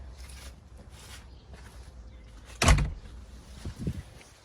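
A door is pulled shut with a single solid thump midway through, followed by a few softer knocks and rustles, heard at close range.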